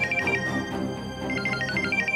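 Phone ringtone chiming in repeated bursts of bright electronic tones, moderately loud with a short pause in the middle.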